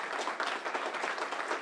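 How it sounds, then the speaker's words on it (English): Brief burst of audience clapping at a community reentry program graduation, many hands applauding steadily at a moderate distance. "Please give a round of applause."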